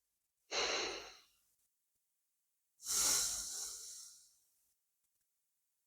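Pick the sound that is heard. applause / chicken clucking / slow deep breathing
slow deep breathing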